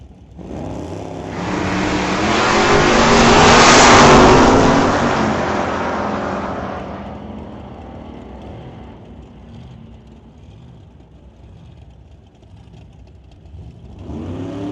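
Drag racing cars launching and accelerating down the strip at a Just Mechanical Sunset Showdown race, a roaring engine swelling loudly to a peak then fading into the distance before another engine rises, with no talking.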